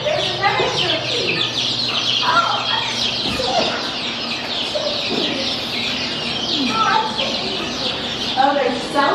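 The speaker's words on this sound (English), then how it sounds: "There's another turkey." Farm fowl, turkeys among them, clucking and gobbling in repeated bursts nearby, with people talking over the birds.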